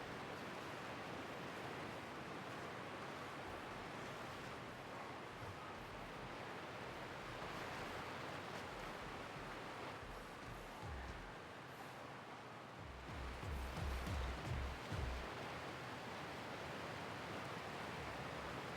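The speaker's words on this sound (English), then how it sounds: "I mean, there is a waterfall," A waterfall in The Outer Worlds gives a soft, steady rushing wash heard from a distance, with a slight low surge partway through and no voices.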